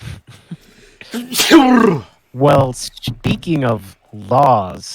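A single sharp human sneeze bursts out early, loud and close, followed by people talking in a casual studio conversation.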